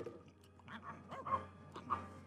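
Several dogs in the Petz 4 virtual pet game bark and yip in short bursts over a low steady hum, the cartoonish barks moderately loud and scattered across a couple of seconds.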